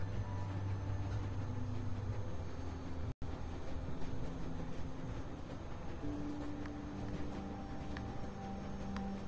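Steady rumbling train in motion inside The Walking Dead video game, a continuous low mechanical drone with rattling undertones running throughout, with one brief dropout partway through.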